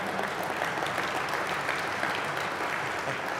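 Applause from an audience at a community report event, a steady, fairly loud wash of clapping that keeps going without a break.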